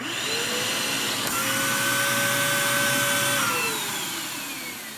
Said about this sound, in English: We're just gonna turn on our vacuum.